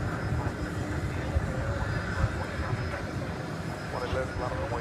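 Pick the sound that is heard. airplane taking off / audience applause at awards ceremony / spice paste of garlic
airplane taking off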